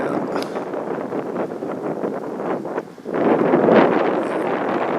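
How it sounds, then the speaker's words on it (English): Cold, blustery winter wind gusting across Portland, Maine's Back Bay, a steady broadband roar buffeting the microphone, dipping briefly then surging louder again. "in the winter, it gets cold and blustery like it is today"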